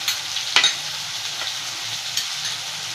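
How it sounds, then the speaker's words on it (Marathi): Onion-garlic masala with chilli and coriander powders sizzling as it roasts in oil for a spicy chicken gravy, a steady close frying hiss broken by a few sharp scraping stirs of the spoon. "हे भाजून द्यायचं चांगलं तेल सुटेपर्यंत"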